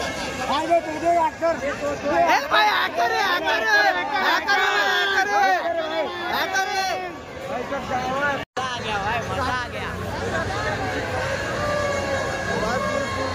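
Dense crowd chatter at a packed village fair (jatra) in Murbad, many overlapping voices and shouts close by, continuous and loud with a brief dropout partway.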